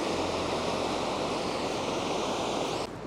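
A waterfall on Iceland's Golden Circle makes a dense, continuous rushing roar from nearby, loud and unbroken until it drops off slightly near the end.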